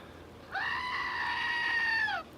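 A goat scream used as a sound effect: one loud, sustained nasal bleat lasting nearly two seconds, clear and close, with no talk.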